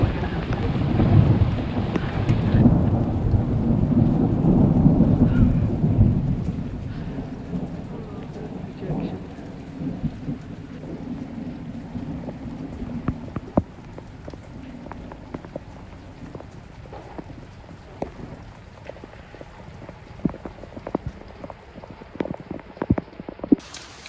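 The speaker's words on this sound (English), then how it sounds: "Caribbean sunshine comes with a bit of rain" Caribbean rain and thunder from a storm: a loud rolling rumble in the first seconds, then steady rain patter on surfaces with scattered drips continuing alone to the end.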